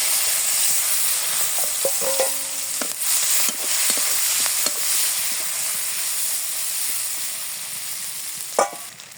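Onions and green chilies hit a hot pan after the fish is fried, giving a loud, steady sizzling hiss with a few scattered clinks and scrapes of stirring, and no talking.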